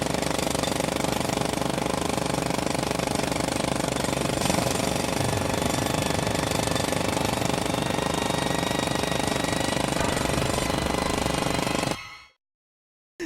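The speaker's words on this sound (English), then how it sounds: "all of a sudden the sound of a fucking jackhammer is gonna be like an air horn followed by a jackhammer" A jackhammer pounds in a loud, continuous rapid hammering for about twelve seconds, then cuts off abruptly into silence.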